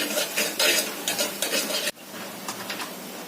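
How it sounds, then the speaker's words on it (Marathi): Ground masala paste being sautéed in a pan for Malvani-style black pea sambar, with rapid scraping stirs and utensil clatter over a low sizzle, the stirring easing after a sudden drop partway through. "तर हे पण चांगलं परतायचं आहे आपल्याला. त्यामध्ये मिनिटभर परतून घ्यायचंय."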